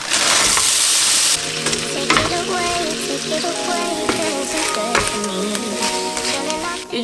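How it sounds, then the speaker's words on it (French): Vegetables sauté in olive oil in a pan with a bright, steady sizzle, and utensil clinks and stirring scrapes run throughout; a loud hiss at the start settles into the continuous frying. "je vais faire revenir des légumes avec de l'huile d'olive"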